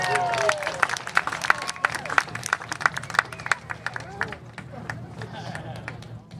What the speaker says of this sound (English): Let's give Andrew a big round of applause.